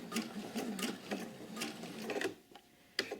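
Short bursts of a sewing machine stitching a single welt coat pocket, close and fairly quiet, with several quick runs of needle chatter separated by pauses and a final brief burst.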